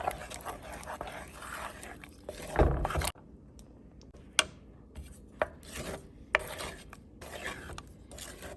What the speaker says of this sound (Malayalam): ഞാനിതിപ്പോൾ ഒരു 4 മിനിറ്റ് ഇങ്ങനെ ലോ ഫ്ലെയിമിലിട്ട് ഇളക്കിക്കൊണ്ടിരിക്കണം